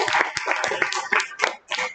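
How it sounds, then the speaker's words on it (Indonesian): A class of vocational welding students claps hands together in a quick, uneven burst of sharp claps lasting a couple of seconds, with a voice or two mixed in. "Tepuk tangan buat kalian semua."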